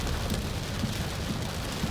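Heavy rain drums steadily on a car while driving through a roundabout in Udon Thani, Thailand, during a windy downpour; a dense, constant wash with low rumbling underneath and no voices.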